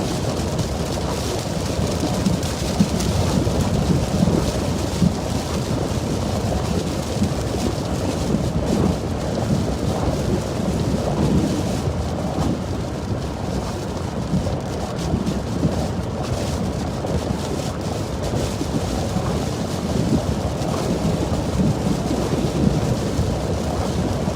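Thunderstorm during a December derecho in Iowa, with steady rain and strong gusting winds roaring against the microphone, continuous and loud, with low rumbling thunder throughout and no one talking.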